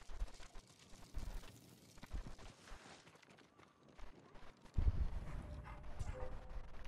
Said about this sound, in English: Oh, dog, dog, dog, dog, dog.